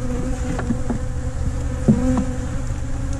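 Honey bees hum and drone around a wooden hive box outdoors, a steady close buzz with individual insects passing near, no voices.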